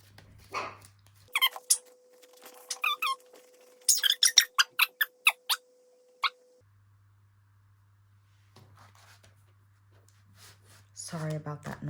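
A small puppy barks sharply at people walking outside in a rapid burst of yaps, some high and squeaky, with a low hum beneath and a voice speaking afterward.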